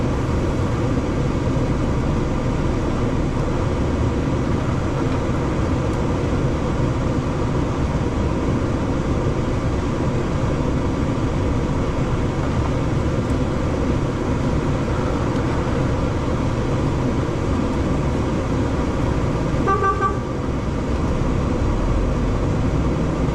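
A vehicle towing a trailer pulls out through a gate in an industrial area, its engine a steady, loud rumble with broadband road and cabin noise throughout and a brief clunk near the end.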